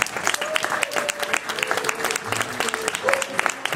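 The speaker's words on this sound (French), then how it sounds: "on peut applaudir ces 6 cavaliers" Applause from an audience at an equestrian show for six horse riders: many hands clapping in a dense, lively burst with a few faint voices mixed in.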